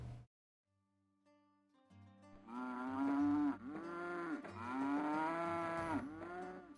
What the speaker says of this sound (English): We need to get these cattle going.